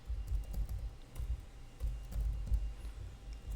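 Code being typed on a computer keyboard, a steady run of soft, close key clicks with brief pauses, no voices.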